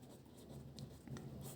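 A pen scratches quietly on paper as someone writes out the elimination-method solution to a pair of linear equations in a class 10 maths lesson, in short, close, continuous strokes.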